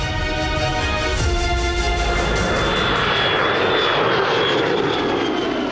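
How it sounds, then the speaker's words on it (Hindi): A fighter jet flies overhead with a loud, continuous engine roar that thickens into broad rushing noise as it passes, with no talk over it. "और आसमान में उड़ती फाइटर जेट।"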